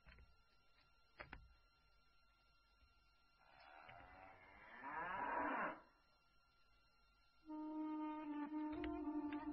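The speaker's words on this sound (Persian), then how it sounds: "این آخرین گاومون است." A cow gives one long moo in the middle, with a short knock just before it, then a sustained humming machine-like tone comes in at the end.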